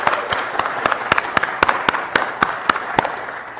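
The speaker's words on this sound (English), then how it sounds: "I think that deserves a round of applause." Audience applause at a Montgomery & Co. NASDAQ closing bell event, dense steady clapping from a crowd, close and loud, lasting a few seconds.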